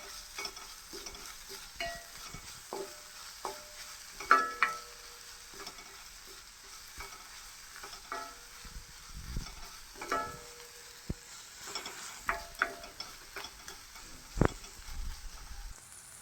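Curry leaves sautéing in a pan for Kerala-style rasam, a soft background sizzle broken by repeated scraping and tapping of a spoon stirring against the pan, close and irregular.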